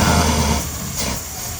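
A 1935 Ford engine runs close by, a loud, buzzy, fast-firing drone that eases slightly after the first half second and holds steady through a brief stretch.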